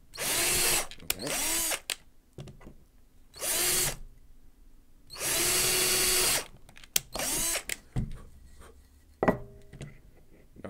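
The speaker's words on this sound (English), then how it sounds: "Not the most accurate drilling I've ever done" A power drill bores into wood while a puppet stand is being built, several whirring bursts of a few seconds each separated by pauses, with a few knocks and handling sounds in between.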